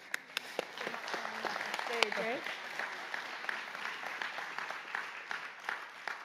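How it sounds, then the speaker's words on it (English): Church audience applauding in a sanctuary, steady clapping lasting several seconds with a voice talking briefly over it. "Let's give them a round of applause."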